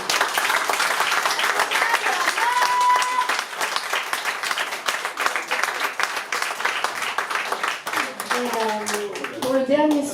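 A concert audience at a small venue claps steadily and dense throughout, with a voice speaking over the applause and a few cheers near the end.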